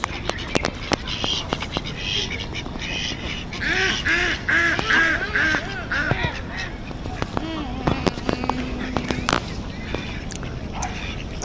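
A group of ducks quacks and honks in repeated bursts close by, mixed with sharp clicks and knocks, while people talk intermittently.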